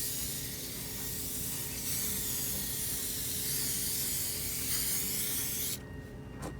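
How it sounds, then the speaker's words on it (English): Hairspray misting evenly over soft pastel artwork in one long continuous hiss, close and steady for several seconds, then cutting off into a quieter room. "So now that I've got that hairspray on there, you can see it kind of is drying"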